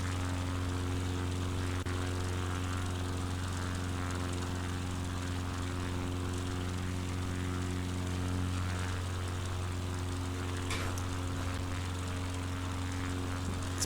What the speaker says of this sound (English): Definitely get around pretty fast in a Cessna